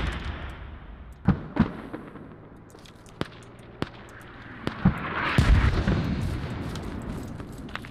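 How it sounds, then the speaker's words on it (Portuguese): Booming artillery fire in a squad-based war video game: sharp, loud blasts at irregular intervals, several spaced a second or so apart, over steady battlefield rumble that swells toward the end. "Cuidado com a artilharia"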